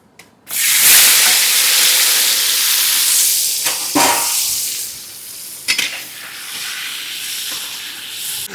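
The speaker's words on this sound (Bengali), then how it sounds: "তেলটা আমাদের ভালো মতো গরম হয়ে গেছে, এবার দিয়ে দেবো নুন হলুদ মাখানো পটলগুলো" Pointed gourd (potol) pieces coated in salt and turmeric drop into hot oil with a loud burst, then fry in a steady, close sizzling hiss with a few crackles and pops, no voices.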